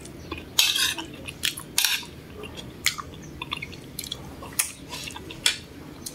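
Cutlery clinks and taps against a plate over a dish of sautéed dried anchovies with egg and tomato, bright irregular metallic strikes scattered across the stretch, close and fairly loud, with no voices.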